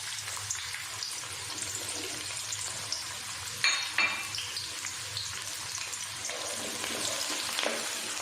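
Two finely chopped onions fry in hot ghee with a bright, dense, continuous sizzle, stirred now and then, with a louder scraping burst midway and no speech.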